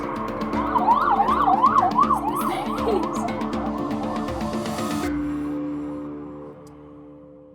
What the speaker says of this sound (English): Waiting for sirens.